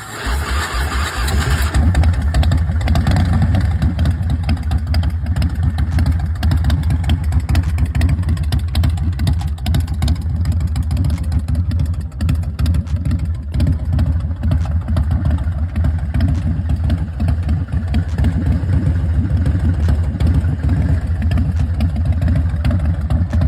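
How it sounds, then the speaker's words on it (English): A 2005 American IronHorse LSC Chopper motorcycle engine runs loud and close for over twenty seconds, a steady deep rumble with rough pulsing, with no talking. "2005 American IronHorse LSC Chopper."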